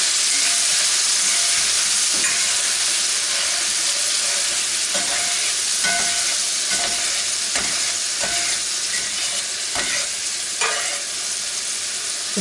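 Beer poured into a hot pan of browned butter from cooked sausage deglazes it with loud, continuous sizzling and hissing steam, punctuated by repeated scraping stirs across the pan.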